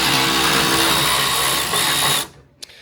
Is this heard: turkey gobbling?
no